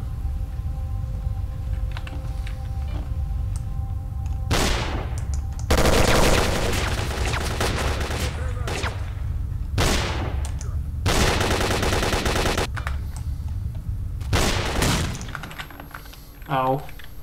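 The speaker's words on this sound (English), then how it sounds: "I'm just going to shoot you in the head instead." Gunfire in Stalker: Call of Pripyat with the SGM 2.2 mod comes as several loud, close automatic bursts separated by pauses. Keyboard clatter and a faint voice sit underneath, and a brief electronic chirp sounds at the end.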